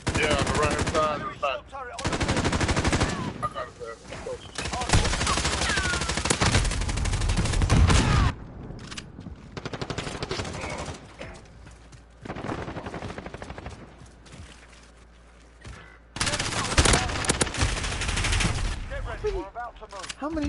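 Loud automatic gunfire in the video game Warzone comes in several long bursts separated by quieter gaps, with occasional voices between them.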